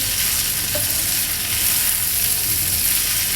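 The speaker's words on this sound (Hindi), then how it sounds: "और सबको हाई फ्लेम रे भाजिबे।" Ingredients for ripe mango rice frying on high flame in a pan, a steady loud sizzle with stirring scrapes running throughout without a break.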